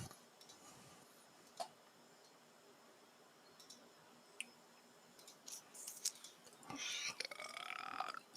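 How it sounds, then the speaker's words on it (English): A single close, rough belch breaks a quiet room, standing out loudly among a few light ticks and clicks. "I thought I heard a disgusting belch."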